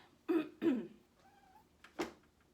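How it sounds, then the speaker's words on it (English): A house cat gives three short, close meows separated by pauses in a quiet indoor room. A faint, brief tonal squeak sounds between the second and third calls. "That's my cat Leo."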